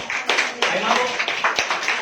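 A church congregation claps their hands in praise of God, a rapid series of sharp, loud claps in an uneven rhythm with voices mixed in.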